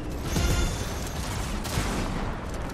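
Gunfire from the Fortnite video game, a dense burst of overlapping shots and booms heard close and fairly loud through the whole short stretch, with no talk over it.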